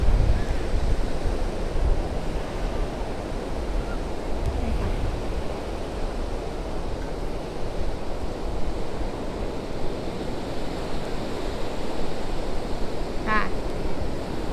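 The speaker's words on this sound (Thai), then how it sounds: "เล่นน้ำทะเลเล่นฟองคลื่นกัน" Sea waves and surf roll onto Mae Ramphueng beach in a steady, broad wash, with wind buffeting the microphone throughout and no distinct voices.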